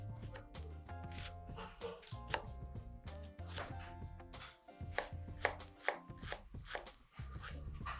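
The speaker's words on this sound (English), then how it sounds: "So you see I just cut a little bit of the onion" A kitchen knife chops onion on a cutting board with quick, irregular strikes. The taps are crisp and close, with no talking.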